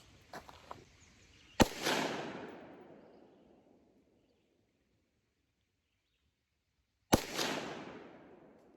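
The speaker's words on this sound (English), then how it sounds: "I've made my first adjustment and going to do another shot and see how it does." A Ruger 57 pistol fitted with an EFK Fire Dragon threaded barrel fires two single outdoor shots several seconds apart, each a sharp loud crack followed by a long fading echo, with faint birdsong at the start.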